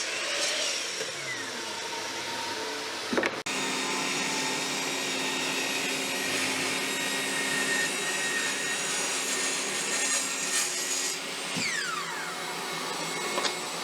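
Power saw cutting walnut boards into frame components for a rustic lamp base, a steady loud whine running throughout with a brief interruption near the start and a pitch dip toward the end, no talking.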